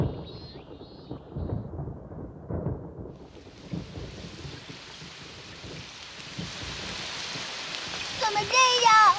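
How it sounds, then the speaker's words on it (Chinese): A cartoon thunderstorm: a deep rolling thunder rumble builds, then steady heavy rain hisses continuously, with a few dripping splashes near the end and no talking. "过一会儿要下雷阵雨了"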